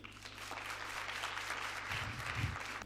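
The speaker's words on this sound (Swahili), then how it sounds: "Piga makofi kwa ajili ya hilo." Audience applause at a Tanzanian student gathering, steady dense clapping from a crowd filling the whole stretch, moderately loud and without talk.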